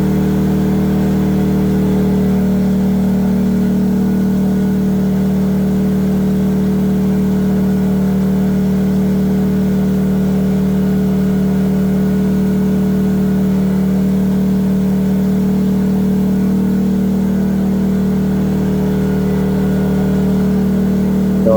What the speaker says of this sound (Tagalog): Tapos yung tumaas din yung ating andar ng ating genset.